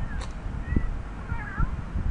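A cat meows in The Sims 3, a short game-sound call standing out above a low background hum.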